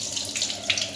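Cold tap-temperature water is poured over cooked rice for zarda, making a steady, close splashing and trickling for about a second with no talk.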